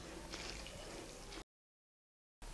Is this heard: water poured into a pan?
yes